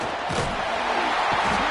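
A full-throated stadium crowd roars steadily in EA Sports College Football 26 during an Auburn Tigers game, loud and continuous throughout.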